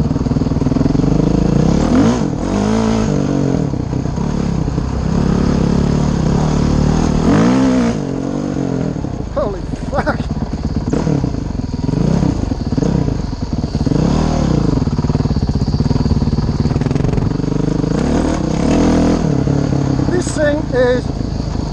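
A modded 2011 Honda CRF 450X dirt bike powers along a trail, its engine loudly revving and surging through repeated accelerations, with a rider talking over the roar.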